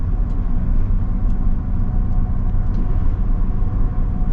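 Mercedes Sprinter diesel camper van cruising on an undulating road, a steady low engine and road rumble droning continuously from inside the cabin with no one talking.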